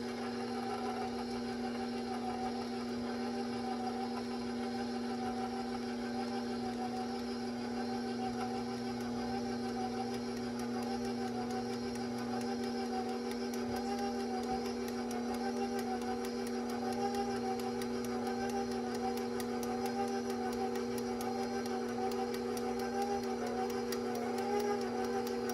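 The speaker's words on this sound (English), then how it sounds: "I'm going to restart my mixer." An electric stand mixer runs steadily for the whole stretch, a constant motor whir and hum at a fairly even level, mixing batter for glazed chocolate donut muffins, with no pauses or talk.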